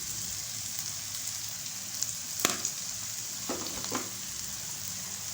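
Dal and spinach are stirred and fried with turmeric and salt, producing a soft, steady sizzle broken by several sharp clicks and scrapes of a spoon against the pan; no one speaks.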